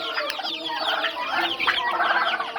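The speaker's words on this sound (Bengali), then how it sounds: "1 মাস প্লাস দেশি মুরগির বাচ্চা" Native desi chicken chicks, just over a month old, cheep and cluck continuously in a busy, close chorus of high chirps inside a poultry shed.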